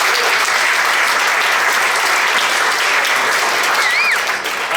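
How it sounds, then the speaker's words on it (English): Audience applause for awardees at a 2019 awards event: loud, dense, continuous clapping from a crowd that holds steady throughout and eases slightly at the end. "Big round of applause for all of our awardees that we have."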